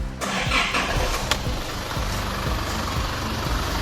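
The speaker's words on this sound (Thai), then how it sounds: "ก็มาสตาร์ท เครื่องฟังเสียงเครื่องยนต์นิดนึง นะครับ" An Isuzu Cab4 Dragon Eye 3.0 diesel pickup engine cranks briefly and catches easily, then settles into a loud, rough, steady rumble close by.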